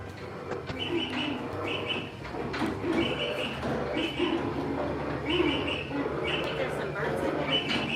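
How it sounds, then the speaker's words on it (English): Birds call inside a cave at Magic Kingdom theme park, with repeated bright chirps and soft coos recurring throughout over a steady background of crowd chatter and low rumble. "Yes, we do have some birds in here."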